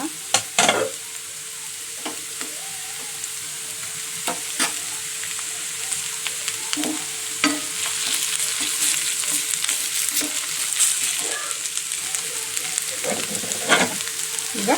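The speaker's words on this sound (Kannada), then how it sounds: "ಇವನ್ನೆಲ್ಲ ಸ್ವಲ್ಪ ಚೆನ್ನಾಗಿ ಫ್ರೈ ಮಾಡ್ಕೋಬೇಕು ನೋಡಿ ಚೆನ್ನಾಗಿ ಫ್ರೈ ಆಗಿದೆ ಈಗ ಸ್ವಲ್ಪ ಕೆಂಪು ಬೆಳ್ಳುಳ್ಳಿ ಪೇಸ್ಟ್ ಹಾಕೋಣ" Onions and red garlic paste frying in a pan, a steady close sizzle punctuated by sharp scraping strokes of a spoon stirring, with no talk.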